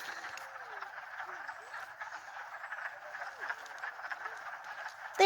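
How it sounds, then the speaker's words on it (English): Frogs croak in a spring pond, a dense chorus of many overlapping calls held at an even, moderate level throughout, with a brief louder knock at the end. "There's a frog!"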